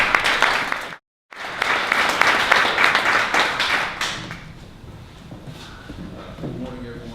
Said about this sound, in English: we also will welcome him with a round of applause